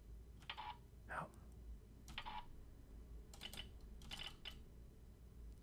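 Keys tapped on a computer keyboard set to the Halmak layout, short scattered bursts of clicks with pauses between them, quiet and close.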